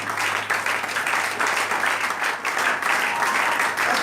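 A church congregation claps and cheers in praise during a worship service, a sustained, dense roar of applause and acclaim that swells in slight waves without letting up.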